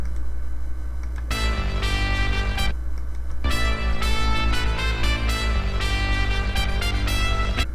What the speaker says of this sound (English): Okay, so here's what the bass sounds like.